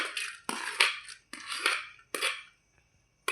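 Green chillies dropped into a pan of hot oil with fried peanuts and curry leaves, giving several loud sizzling bursts of spatter and clatter in quick succession, each fading out, with no talk.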